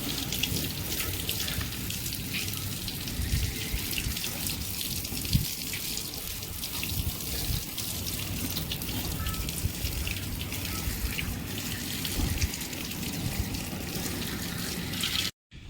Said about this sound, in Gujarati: પાવડરવાળું પાણી મારી દીધું